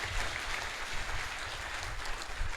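A church congregation applauds at an ordination service, a busy, fairly soft patter of many hands clapping with low thumps underneath, continuing steadily.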